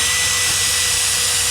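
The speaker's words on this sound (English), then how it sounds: "I'm making a pilot hole, and then I'm gonna do the countersink" Steady, loud whine of a power drill boring a pilot hole for a countersink during a composting toilet build for a bus conversion, continuous for the whole stretch without pauses.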